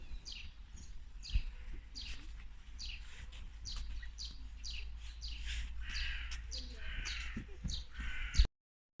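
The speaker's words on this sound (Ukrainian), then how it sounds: "Тільки послухайте, як співали пташки" Repeated crow caws ring out steadily over a constant low hum, with a few fainter bird calls mixed in at a moderate distance.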